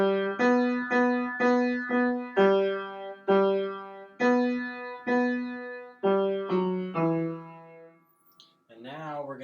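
Solo piano plays the opening of the verse of a song in steady, evenly spaced notes with clear ringing sustain, close and alone, ending with a brief faint sound afterward.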